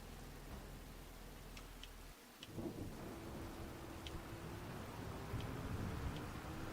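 A thunderstorm in Farming Simulator 25 on the Pallegney map: a low rumble of thunder gives way to steady, fairly faint rain with scattered light ticks.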